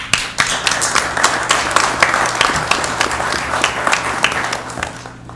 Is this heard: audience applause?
yes